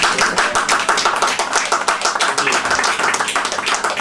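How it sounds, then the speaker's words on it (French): Audience applause at a French poetry event honouring the team who produced a poet's CD: lively, fairly close clapping with distinct individual claps in a continuous ragged patter, loud and without talk. "On peut les applaudir et les remercier."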